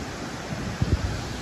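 Waterfall at Cascadas del Meco on the Rio Verde, a steady broadband rush of falling water heard close and constant, with a few low thumps near the end.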